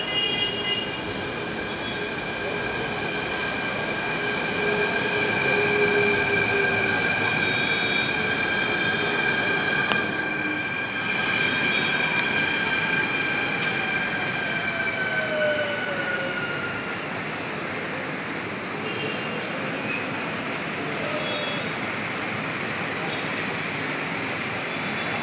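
A Mumbai Metro train running, a steady loud rumble of wheels and carriage with high-pitched wheel squeal sliding in pitch, continuous throughout with no talk.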